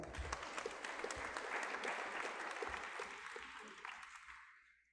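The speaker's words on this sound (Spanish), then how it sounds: "Un aplauso, por favor." A conference panel audience in Ecuador applauds with a dense, steady clatter of many hands. It swells early, then thins and fades out over the last second or so.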